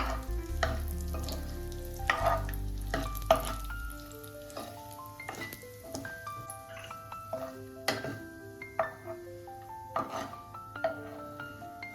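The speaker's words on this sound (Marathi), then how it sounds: "ड्रायफ्रूट परतून घेऊ आपण." Dry fruits sautéing in ghee in a pan for vermicelli kheer, a steady soft sizzle broken by frequent clinks and scrapes of a spoon against the pan, with no talking.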